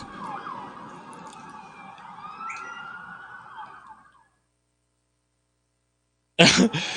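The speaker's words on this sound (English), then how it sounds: "I don't know if you guys can hear all those sirens." Wailing emergency sirens rise and fall in the distance outside during a car chase for several seconds, then silence, followed by a sudden loud burst of noise.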